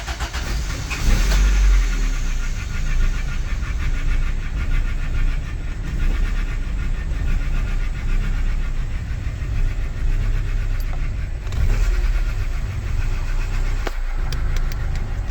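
A Honda Civic EF sedan's engine runs after timing belt work, idling with a steady, close rumble that wavers slightly and has a few brief bumps along the way, with no talking.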